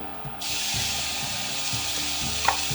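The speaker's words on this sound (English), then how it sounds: "I'm going to go ahead and throw in my bacon." Bacon sizzling in a hot pan with no oil while cooking an Irish stew, a bright continuous hiss that jumps in suddenly and holds steady with faint pops, close and loud.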